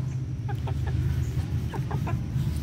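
Free-range village chickens, including three-month-old young roosters, give scattered soft clucks over a steady low background hum.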